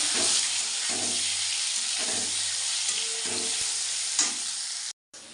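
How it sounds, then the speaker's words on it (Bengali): Steady loud sizzling of taro stem frying in hot oil in a wok, with a few soft stirring scrapes, cutting off abruptly near the end. "এবারে আমি এই কচুর মুড়োটা দিয়ে দেবো তেলের মধ্যে।"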